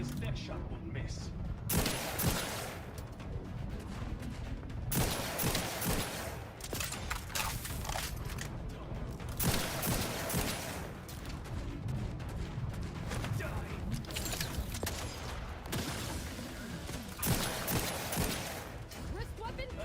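Sniper rifle fire in Outer Worlds, repeated sharp shots and impacts spread across a busy combat soundscape, with speech heard over the action.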